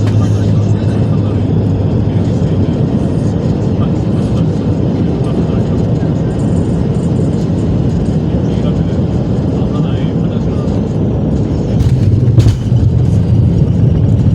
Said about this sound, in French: Plandine, on est en train d'atterrir.